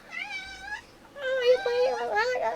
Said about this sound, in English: Oh, my black cat. He's a little panther.